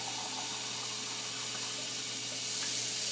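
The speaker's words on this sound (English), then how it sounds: "I'll fill that up with water" Water runs steadily from a tap as a crock pot is filled for chicken and dumplings, heard as a continuous hissing splash at an even level throughout with no talking.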